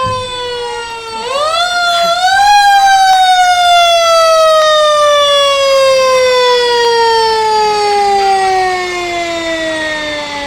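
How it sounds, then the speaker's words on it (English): A Boiling Springs Fire Department fire truck's mechanical siren winds up loudly and then slowly descends in pitch during a Christmas parade, a long, rising and falling wail close by. "Next up, the Boiling Springs Fire Department. You probably just heard him come by."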